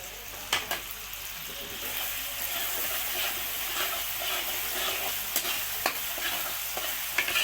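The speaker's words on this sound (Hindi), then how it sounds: "दाल को अच्छी तरह मिक्स कर लेंगे।" Chana dal with chopped ginger being stirred in a hot pan for a dhaba-style palak chana dal, a steady close sizzle broken by several sharp scrapes of the spoon against the pan.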